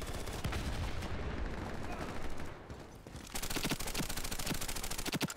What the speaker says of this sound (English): he's literally shooting a wall